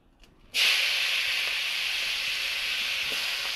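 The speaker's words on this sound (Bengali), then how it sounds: "এবার আমি ওই তেলেতে পুঁই শাকটা একটু ভেজে করে নেবো।" Malabar spinach dropped into hot oil left from frying shrimp, starting with a sudden loud hiss that settles into a steady, close sizzle.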